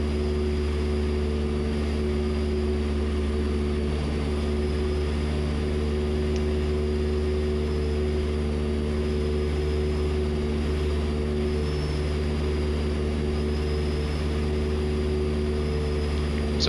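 A 200 mph aerobatic airplane climbs out after takeoff from a short runway, flaps up, with engine power slightly reduced. The engine and propeller drone loudly and steadily from the cockpit, an even tonal roar that does not change.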